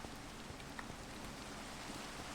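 Quiet, steady rain in a Minecraft world, a faint even hiss of falling drops with no other sounds, continuous and distant throughout.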